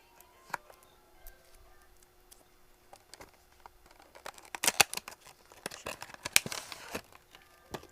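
New Daiso makeup packaging, a mascara in Hello Kitty print, is torn and crinkled open by hand, with scattered crisp rips and crackles that grow busier toward the end, close and fairly quiet with no voices.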